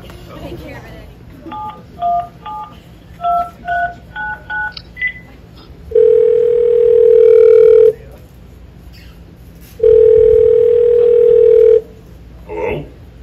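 A telephone keypad beeps through a quick series of touch-tone digits, then two long, loud, steady ringing tones follow as a phone call is placed, with brief voice fragments at the edges.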